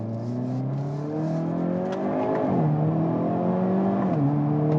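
Hyundai Kona N compact front-wheel-drive hot hatch accelerating hard, the engine note climbing steadily through gears with short shift dips, heard from inside the car without talk.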